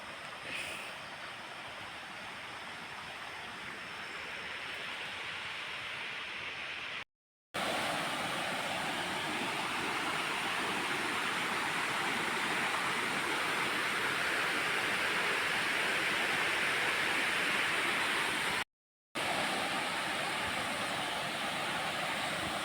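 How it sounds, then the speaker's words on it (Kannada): Water pours steadily through a small check dam on a stream, a dense, continuous rushing wash heard up close and alone, with two brief dropouts in the recording. "ಇಲ್ಲಿಂದ ನೀರು ಪಾಸ್ ಆಗ್ತಾ ಉಂಟು"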